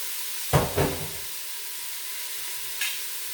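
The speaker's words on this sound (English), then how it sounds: "Let's add the mushrooms right now." Garlic and mushrooms hit a hot pan with a sudden loud hiss that settles into a quieter continuous sizzle, followed by one faint clink.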